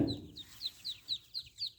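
A duckling peeps repeatedly in short, high, evenly spaced calls, close by and fairly quiet.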